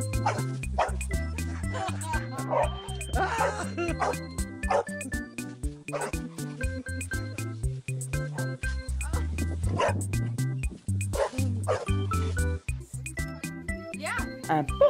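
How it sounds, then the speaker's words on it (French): A dog bouncing on a trampoline gives out repeated yips and barks, set against a strongly rhythmic music track that runs throughout. "Un chien fait du trampoline."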